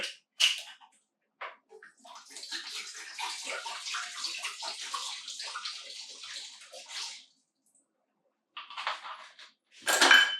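Vinegar, a full quart, pours into a pot on the stove to make pickle brine for a banh mi sandwich, a steady close liquid splash running several seconds, with short clinks before and after.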